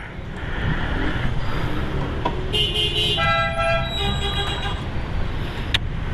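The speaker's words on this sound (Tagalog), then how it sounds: "Bakit busina ng busina?" Car horns honk repeatedly in a busy street traffic jam during a hot-weather food delivery ride, with tonal toots standing out over constant road and engine noise.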